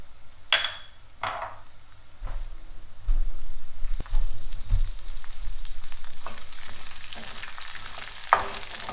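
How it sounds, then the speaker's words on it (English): Peas dropped into a pan with garlic and garlic scapes, frying in a bright, crackling sizzle with a few sharp bursts and some pan and spoon movement throughout. "And let's drop in our peas. These are not parboiled. We're just going to cook them with the garlic."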